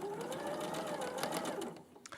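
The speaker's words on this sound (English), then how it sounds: "We're stitching on the line." A sewing machine stitches along a marked line in a fast, steady, close-up whir of needle strokes. The sound is faint and runs alone for about two seconds.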